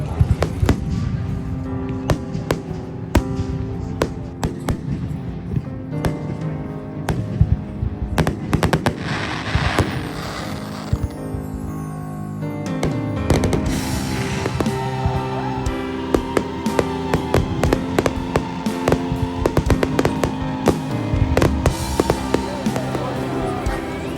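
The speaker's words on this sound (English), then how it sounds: "to watch some fireworks, which is a tradition" Fireworks display in a large park in Lille, France, with repeated booming bursts and crackling pops throughout, amid a large crowd; people talk and murmur underneath the steady barrage.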